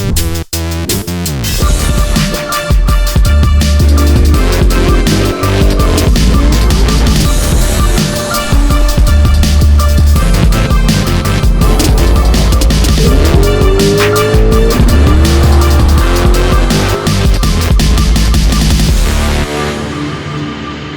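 A 400 cubic inch Gen 1 small block Chevy V8 with a Holley carburetor revs hard past 7000 RPM, loud and close, its pitch sweeping up and down through repeated rips for about twenty seconds.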